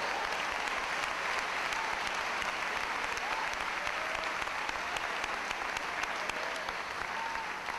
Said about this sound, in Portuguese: Só quem crê glorifica a Deus e aplaude bem forte o nome dele.